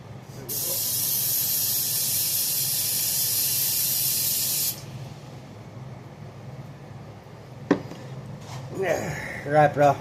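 A steady, loud spray of aerosol carburetor cleaner hisses continuously for several seconds, then stops, followed by a metallic clunk and someone speaking nearby.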